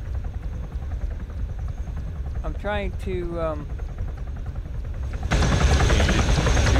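Helicopter rotor and engine drone in the military video game Arma 3, a steady loud broadband whir that swells louder near the end, with a voice talking briefly over it.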